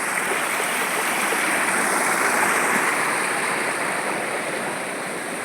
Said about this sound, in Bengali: ডুংরি হুদহুদি বা ডুংরি ঝর্ণার কাছে দাঁড়িয়ে আছে।